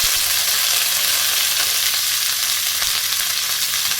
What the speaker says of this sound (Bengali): আমি আজকে একটু নিম বেগুন ভাজবো